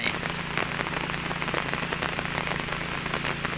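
Heavy rain pouring down in a dense, constant hiss and patter, loud and unbroken throughout, in a tree-covered rural area during the rainy season.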